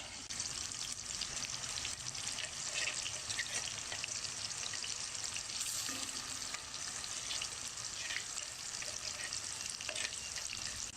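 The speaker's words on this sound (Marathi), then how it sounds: "आणि आता मगाशी आपण जे वाटण वगळून ठेवलं ते वाटण ह्या तेलामध्ये आपल्याला घालायचं." Ground spice paste fries in hot oil for a Maharashtrian patodi curry, giving a dense continuous sizzle with faint stirring, close and steady, with no voices.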